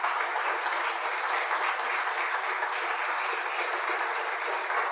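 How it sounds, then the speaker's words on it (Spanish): Audience at a live talk on Costa Rican history breaking into sustained applause, a dense, even wash of clapping from many hands that holds steady for about five seconds with no voices over it. "Un fuerte aplauso a Andrés"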